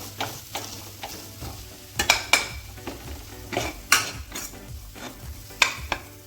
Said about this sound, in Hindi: अब करेंगे अच्छे से मिक्स, आलू को मैश करते हुए।